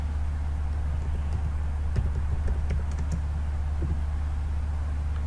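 Keys tapped on a computer keyboard while searching for Control Panel in Windows 11, a few quick clusters of close clicks over a steady low electrical hum.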